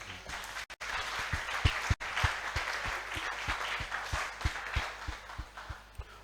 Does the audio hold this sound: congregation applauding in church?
yes